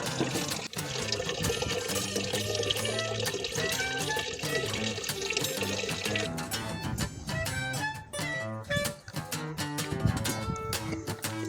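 Water collected from an outdoor source, a continuous rushing, splashing pour with a bubbling, shifting texture partway through, fairly close and with no talk.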